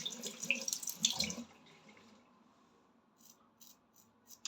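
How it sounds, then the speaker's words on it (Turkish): Tap water splashes into a sink as a face is rinsed after shaving, a short burst of running and splashing that stops at about a second and a half, leaving quiet with faint drips. "Yüzümü tekrardan bir durulayım ve tıraş sonrasına geçelim artık."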